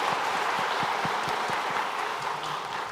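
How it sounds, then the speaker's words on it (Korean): A church congregation applauding during a Sunday service, dense sustained clapping from many hands filling the room evenly for several seconds. "하나님께 영광의 박수 올려드리도록 하겠습니다"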